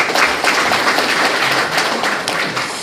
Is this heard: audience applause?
yes